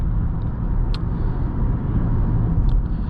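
A 2021 Volkswagen Passat with a 6-speed automatic is driven through handling maneuvers, a steady low road and engine rumble from inside the cabin with a couple of faint brief ticks, no talking.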